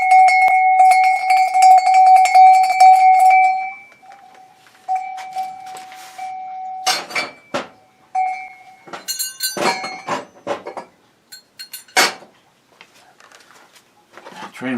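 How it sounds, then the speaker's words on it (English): Slow, meditative cowbell strikes ring out: a long sustained metallic tone at first, then sparser single hits with clicks and knocks between, spaced irregularly with quiet gaps. "Kind of like meditation cowbell."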